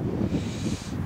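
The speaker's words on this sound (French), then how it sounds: "désolé pour le vent" Wind buffets the microphone on a forest hiking trail in the hills near Masevaux, producing a steady low rumble with soft rustling that lasts the whole brief moment, with no talking.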